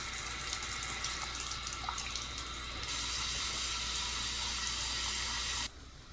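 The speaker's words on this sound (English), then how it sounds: "So while I'm letting that faucet run" Steady rush of a faucet running into a sink, continuous and fairly close, with the flow shifting slightly partway through before dropping off near the end.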